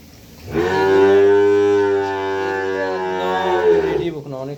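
A Red Friesian cow lows once at a farm in Bogura, Bangladesh, a loud, long, close moo lasting several seconds before trailing off.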